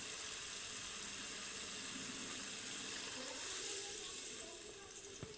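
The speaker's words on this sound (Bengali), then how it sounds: "এবার আমি জল দিয়ে দেব।" Water poured into spiced masala cooking in a pan for a Bengali potol dorma with prawns, a steady close hiss and gurgle that softens toward the end.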